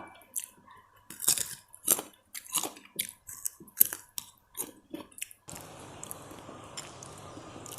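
Crunchy olives eaten with a jaew dip made with roasted rice are chewed close up in a run of crisp, irregular bites, followed by a softer, duller stretch of noise near the end.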